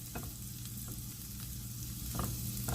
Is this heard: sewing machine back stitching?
no